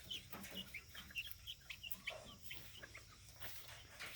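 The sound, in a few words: white crested Polish chickens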